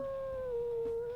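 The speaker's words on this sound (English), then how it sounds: "Let's listen to the howls." A single sustained wolf howl from the video game WolfQuest, a clear steady tone that dips slightly and holds, heard alone at moderate level.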